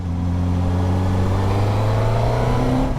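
A 2022 Suzuki GSX-S1000GT motorcycle accelerates with its quick shifter, the engine drone loud and close with steadily rising pitch and a brief shift near the end.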